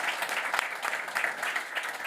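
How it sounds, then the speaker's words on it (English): Steady applause from a room of attendees at a whisky conference, many hands clapping evenly throughout, moderately loud and continuous with no voices on top. "I think a round of applause for Jan."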